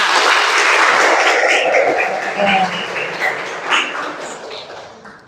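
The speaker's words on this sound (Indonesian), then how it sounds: "Tepuk tangan untuk kita semua." A classroom group applauds together at the close of a religious lesson, loud dense clapping that thins and fades over several seconds.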